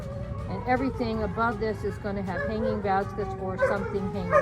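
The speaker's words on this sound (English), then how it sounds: "I'm sorry about the dogs." Several dogs bark and yip nearby in a garden, repeated sharp barks in quick bursts with some whimpering, running under a person's steady speech.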